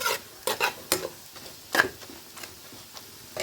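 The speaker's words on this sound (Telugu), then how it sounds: "కింద నుంచి పైదాకా మొత్తం కలుపుకోండి." Mixed vegetable rice is stirred in a pan, with several close, sharp scraping strokes at an uneven rhythm over a faint sizzle.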